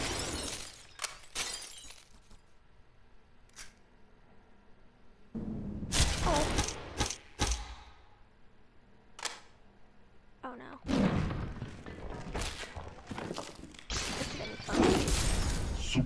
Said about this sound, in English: Oh, I just broke that guy's jaw.